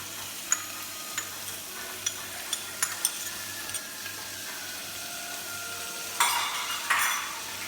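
Ginger, green chili and garlic paste stirred in a pan, with a soft continuous sizzle under sharp, evenly spaced utensil taps and clinks, then a brief louder burst of scraping and frying near the end.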